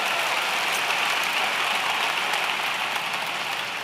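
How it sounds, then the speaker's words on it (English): Dense, steady applause from a large audience at a university convocation, continuous and even throughout with no voices standing out. "so give yourselves a round of applause for that"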